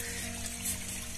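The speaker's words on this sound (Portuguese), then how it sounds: "Segurando aqui uma mangueira de água" Water runs from a garden hose held by hand at a home bathroom construction site, making a steady, even hiss and splash that continues throughout, fairly close.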